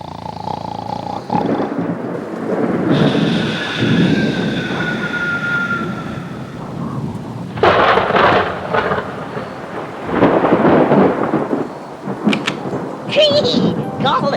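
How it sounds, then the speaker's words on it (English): Loud thunder rolling through a rainstorm, deep rumbling peals swelling and fading over a steady hiss of rain, with a sharper crack and renewed rumbles later on. "did you hear that thunder?"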